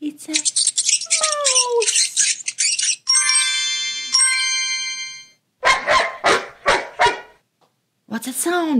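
In the Masha and the Bear children's game, a cartoon dog barks four times in quick succession, loud and close. A voice speaks first, then two bright chimes ring out before the barks.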